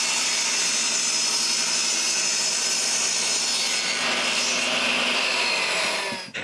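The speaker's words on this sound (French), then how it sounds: "Il faut refendre une planche du soffit original et aussi couper la feuillure de la dernière planche." A saw rips lengthwise through a wooden soffit board at a chalet in steady, continuous rasping strokes, close and loud, with no talking.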